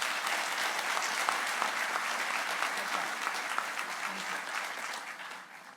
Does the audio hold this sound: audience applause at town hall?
yes